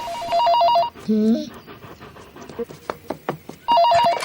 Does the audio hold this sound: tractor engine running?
no